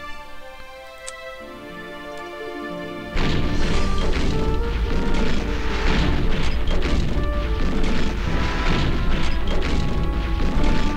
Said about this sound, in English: Quite heavy bombardment across the field, doing significant damage to our infantry.